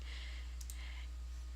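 Computer mouse click while browsing the Taobao shopping site, a pair of quick, faint clicks over steady low hum.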